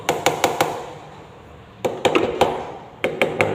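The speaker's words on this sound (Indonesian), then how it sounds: "Kita ketok-ketok dulu pakai" A rubber mallet taps on the clutch cover of a Honda Supra GTR 150 motorcycle in sharp, close knocks, first four in quick succession, then a pause, then two more bursts of four to five taps.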